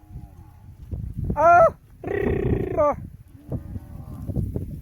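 Several loud, close moos from thirsty grazing cows, one short and one long, rise over a noisy outdoor background with scattered rustling.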